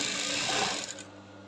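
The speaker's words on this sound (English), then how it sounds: "I'm top stitching" A sewing machine runs steadily in a continuous close whir while top stitching bias binding along a garment neckline, slowing and stopping near the end.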